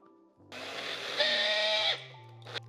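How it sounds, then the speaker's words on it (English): A kitchen blender whirs steadily through a cottage cheese mixture for about one and a half seconds, close and loud, with a rising pitch before it cuts out and a short burst follows. "Now we blend this up."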